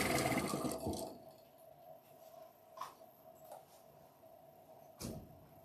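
A home sewing machine runs with a freshly changed needle. It whirs loudly at the start, then stops, and a few faint clicks and knocks follow in a quiet room.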